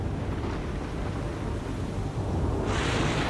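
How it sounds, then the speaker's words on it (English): A deep, rumbling thunderclap rolls through a stormy night, broad and sustained at steady loudness, with a brighter hiss of rain or wind swelling in near the end. "Thunder crashed. Boom!"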